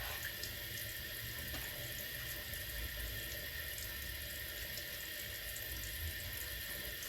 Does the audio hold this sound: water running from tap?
yes